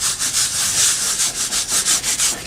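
Filler rubbed by hand into a crack in a house foundation, a close, steady scraping rub in quick rhythmic back-and-forth strokes with no talk.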